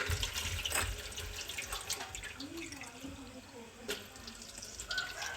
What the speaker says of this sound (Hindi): इमली डालेंगे और इसमें थोड़ा सा पानी ऐड करना है हमने